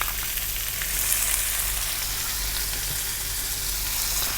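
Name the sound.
onion sizzling as it is added to the pan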